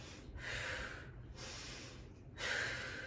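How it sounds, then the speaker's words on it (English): Rapid, heavy breathing during an exercise session: three sharp, close breaths, each a breathy rush with brief pauses between, and no talking. "Breathing a little quicker here, that's okay."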